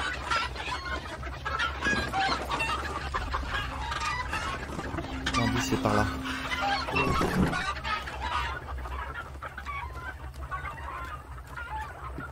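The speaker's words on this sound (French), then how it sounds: "Vous voyez les poules là" Chickens from the Hunt: Showdown video game cluck busily and continuously throughout, with a short crow-like call in the middle, while someone speaks French briefly over the flock.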